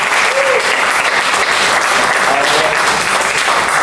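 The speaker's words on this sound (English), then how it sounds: "Give yourselves a round of applause, right?" Comedy club audience giving themselves a loud, dense round of applause, close and sustained throughout with a few cheers mixed in.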